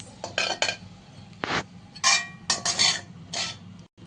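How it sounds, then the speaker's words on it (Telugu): Chicken fried rice being stirred in a pan, with a run of metallic clinks and scrapes from a utensil against the pan at an irregular rhythm, close and moderately loud, with no talking. "ఇలా కలుపుకుంటూ ఉంటే అయిపోయిందండి మన చికెన్ ఫ్రైడ్ రైస్"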